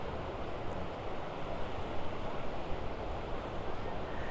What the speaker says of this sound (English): Now, the river.